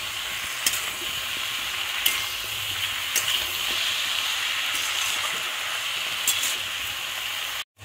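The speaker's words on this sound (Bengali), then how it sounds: "দিয়ে এটাকে আবার একটু কষিয়ে নিতে হবে।" Pui greens with salt and turmeric stir-frying over a gas flame, giving a loud, continuous hissing sizzle with occasional spatula clicks against the pan, heard alone without speech until an abrupt stop.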